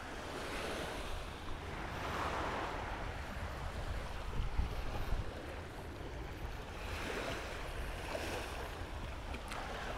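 Waves break and wash along a breezy shore at Peng Chau while wind rumbles against the microphone, a steady surf roar rising and falling throughout with no speech.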